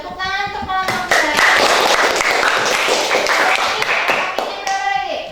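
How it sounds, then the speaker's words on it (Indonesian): Classroom students applaud group 2 with a burst of lively, close hand clapping that runs steadily for several seconds, while children's voices mingle underneath. "tepuk tangan untuk kelompok 2"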